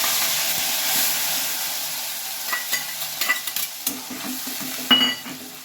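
Ground ginger, onion and garlic paste dropped into hot oil tempering gives a loud hissing sizzle that settles, followed by scattered spatula scrapes and taps while it fries, close up.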